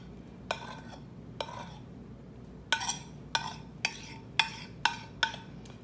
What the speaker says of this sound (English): Probably need a spoon. Let me get a spoon to scrape it off.